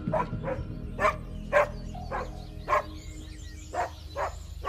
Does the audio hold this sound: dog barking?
yes